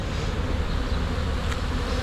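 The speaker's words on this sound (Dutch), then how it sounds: "Even schuif ik wat bijen opzij." Honeybees buzzing in an opened beehive: a dense, steady swarm drone close by, holding an even loudness throughout with no voices.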